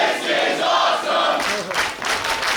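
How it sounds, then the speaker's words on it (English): A crowd of about 300 fans at a wrestling show cheers and yells loudly, a roaring wall of voices that surges in waves, with shouts swelling in the latter half. "Listen to this crowd."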